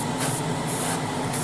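An aerosol spray can hisses continuously while laying colour coats on the fairings of a 1:12 Tamiya Repsol Honda RC211V model motorcycle, in short pulsing bursts, close and steady.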